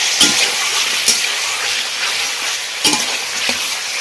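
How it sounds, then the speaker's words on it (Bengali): Steady loud sizzling of chicken frying in hot oil over high heat, with occasional scraping clacks of a spoon stirring the pan. "যতক্ষণ মাংসটা আপনি হালকা এই তেলের মধ্যে নাড়বো"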